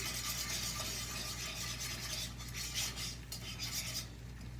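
A spoon works creme fraiche into sweet chili sauce in a pan for a scampi salad, a steady scraping and clinking of utensil on metal over a constant low hum, close and continuous without voices.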